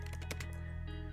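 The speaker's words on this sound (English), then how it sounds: "and then you could just start typing" Typing on a computer keyboard, a quick run of soft key clicks over a steady background hum.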